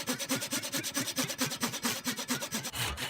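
Steady back-and-forth file strokes rasping across a steel knife blank held in a small vise, about fifteen rhythmic rough cross-cut passes in quick succession, close and fairly loud, with a short pause near the end.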